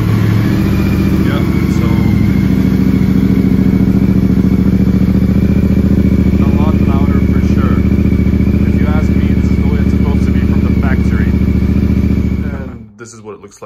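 A Yamaha Tenere 700 motorcycle idles through an Akrapovic exhaust with its DB killers removed, a loud, steady, throaty rumble close by that runs for about twelve seconds before cutting off abruptly.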